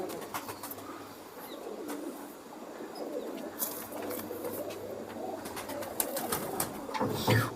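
Pigeons of Kamagar, Teedy and Sialkoti breeds coo softly in a loft, low repeated coos under faint background noise and occasional flutters.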